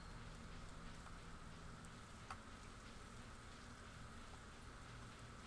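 Rain falling in the farming game Stardew Valley, a soft, steady hiss of drops with a faint low rumble beneath and one brief click partway through.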